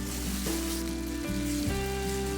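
Spices frying in oil for paneer (chhana) biryani, with sugar added, sizzle steadily while being stirred, a continuous close, even crackle with occasional scraping shifts.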